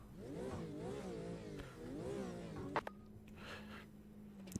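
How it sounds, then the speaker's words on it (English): Porsche RSR race car engine in a racing simulator, revving with rising and falling pitch for nearly three seconds, then dropping to a steady low idle hum with a couple of sharp clicks. "Can't beat the sound of the RSR."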